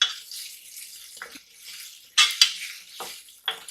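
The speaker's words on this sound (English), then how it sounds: "So we are going to fry this little by keep on stirring." Meat pie filling with thyme and curry frying in a pan while being stirred, a faint hiss broken by several sharp scraping and clinking bursts of the spoon against the pan, close and uneven.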